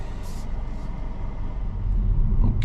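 A 2025 Kia Soul EX Soulmate Edition pulling away after its manual parking brake is released, heard from inside the cabin as a low, steady engine and road rumble that swells toward the end.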